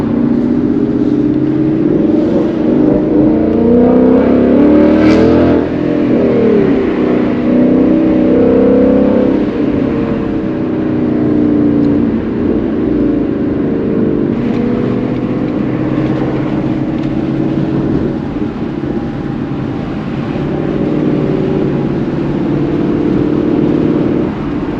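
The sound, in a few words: 2022 Ford Mustang GT driving and revving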